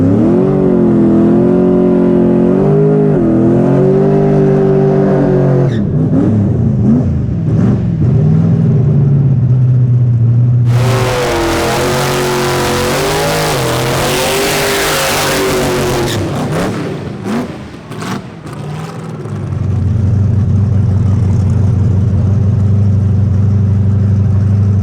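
A drag race car roars loudly and close, its engine pitch climbing through hard acceleration, then a sudden blast of broadband noise before the sound drops away and a lower engine drone returns.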